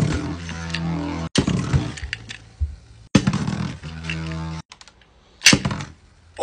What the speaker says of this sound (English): After 5 launches, you could see that it snapped.